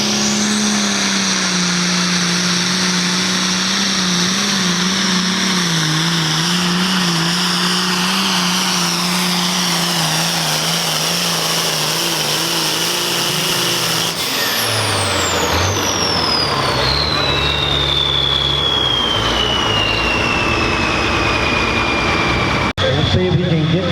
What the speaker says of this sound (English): Getting that turbo spooling, everything that's working